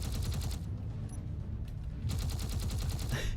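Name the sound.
turrets firing on a ship in the video game Space Engineers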